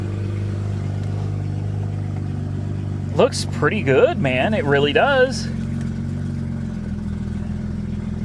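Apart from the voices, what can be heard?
Mazda RX8 engine running with raspy straight-piped exhaust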